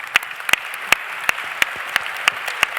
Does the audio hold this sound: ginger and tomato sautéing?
no